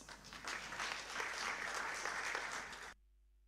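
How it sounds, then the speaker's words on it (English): An audience at a Freedom Day civil society forum debate applauds in a dense, steady burst of clapping for about three seconds, then stops abruptly into near silence. "A round of applause."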